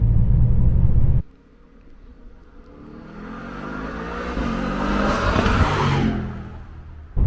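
A 2021 Mercedes-Benz E63S engine cuts off, then restarts after a pause of about a second, with a low rumble that swells into a steady, rising idle and drone. It stays close and loud, then stops abruptly.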